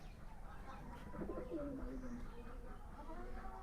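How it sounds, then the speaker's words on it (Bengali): A giribaz pigeon in a loft gives one soft, moderately quiet coo that rises and trails off over about a second, set against a steady low background hum. "খুব সুন্দর একটা চোখের কবুতর"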